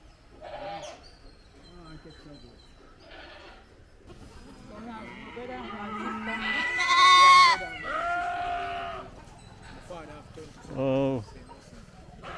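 Goats bleat and call repeatedly on an outdoor tour stop in Kingston, Jamaica, with a louder burst in the middle and another near the end, mixed with people talking nearby.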